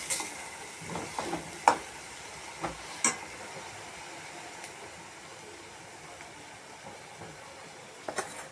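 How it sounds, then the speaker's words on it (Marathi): A pan of coconut, coriander and ginger-garlic paste being sautéed, with faint, sparse scrapes and clicks from a spoon over a quiet, low sizzle. "खोबरं कोथिंबीर आलं लसूण आणि त्याचं वाटण आपण याच्यामध्ये टाकून घेतलं आहे दोन तीन मिनटं छान परतून घ्यायचं"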